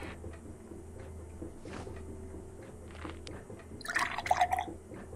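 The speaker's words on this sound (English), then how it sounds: "Pour some water." Water is poured in the video game Fran Bow, producing a faint, short, trickling splash near the end, after a stretch of quiet low hum.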